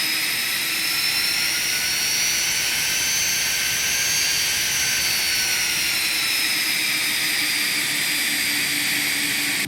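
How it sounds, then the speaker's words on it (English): Corporate jet engines taxiing toward the runway, a loud steady whine and roar with shifting high tones, continuous throughout and without voices. "we'll go ahead and get the aircraft taxiing to the runway"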